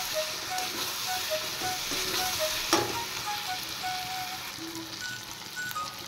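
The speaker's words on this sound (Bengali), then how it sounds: "এবার আরেকটু ফ্রাই করব" Fried potatoes sizzle in spice masala for a fish curry, a continuous crackling fry with occasional scraping stirs and a sharp clatter midway, no talk.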